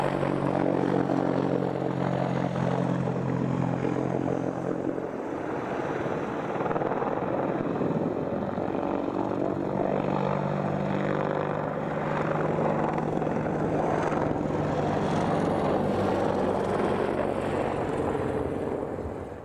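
A Hellenic Army AH-64A+ Apache helicopter flies a low-level agility display at an air show, its rotor and turbine roar loud and continuous throughout, swelling and shifting in pitch as it banks through tight turns.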